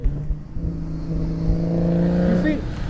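A V6 Mustang with an aftermarket exhaust idles, then revs up into a sustained raspy drone that swells and falls back, heard close by while someone talks over it.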